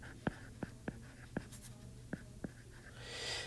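Marker or pen strokes on a board while working out a quadratic factoring solution, a string of short sharp taps and scratches spaced irregularly, fairly close and clear over a quiet hum.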